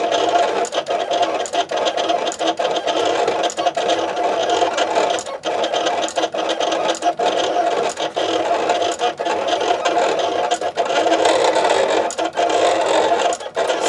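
An electronic vinyl cutting machine whirs steadily as its blade cuts, with regular soft tapping clicks throughout, close and continuous with no talk.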